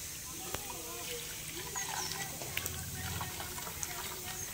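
Rice-washing water is poured into a bottle, giving a soft, gurgling trickle with small splashes and bubbling under a person's quiet speech.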